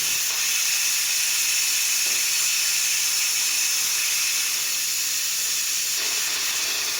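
Steam hisses steadily out of the release valve of a 6-quart CHULUX 9-in-1 electric pressure cooker after cooking beans, a loud, continuous, close-up rush with no talking.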